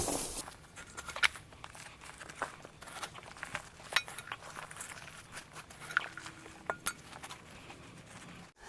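Potting soil being added to a plant pot or soil bag gives gritty crumbly rustles and scattered light clinks, close by, irregular and fairly quiet throughout.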